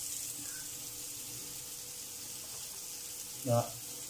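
Fried mutton tipped into a pan of curry masala gives a steady, quiet sizzle throughout, with one short louder burst near the end as the meat drops in; no voices.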